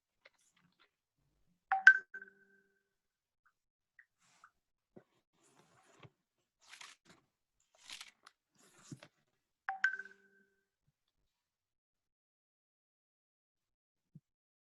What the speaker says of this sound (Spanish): Alguien está mandando un mensaje como loco y suena demasiado fuerte